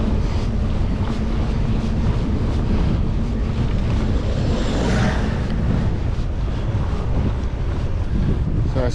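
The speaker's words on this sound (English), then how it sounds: "it's still a headwind and it's still pretty windy" Strong headwind buffeting the microphone on the open Outer Hebrides coast, a loud continuous roar of gusting air with waves and surf washing beneath it.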